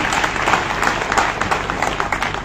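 Audience at a Rashtriya Muslim Manch gathering claps loudly in welcome, a dense, continuous wash of applause filling the whole moment.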